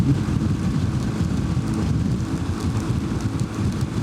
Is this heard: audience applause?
no